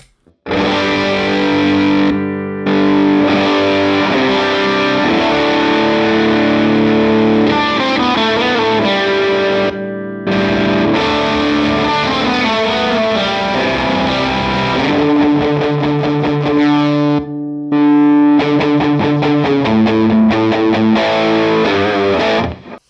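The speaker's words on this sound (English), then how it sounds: "the quality of that overdriven sound is definitely better" Heavily overdriven electric guitar through an effects pedal plays gritty, sustained chords and riffs with brief pauses between phrases, loud and up front with no talking.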